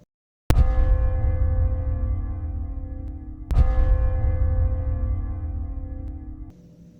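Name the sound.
bell ringing in a quiet forest at night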